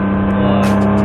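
A sports car on a race track at Lohéac, a Porsche Cayman S or Nissan GT-R, accelerates hard in a steady, loud engine roar heard from close by, with no talking.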